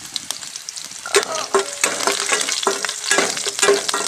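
Green chilies and mustard seeds fry in hot oil in a pan, making a close, continuous sizzle broken by sharp crackles and pops as they hit the oil and are stirred, with no talking.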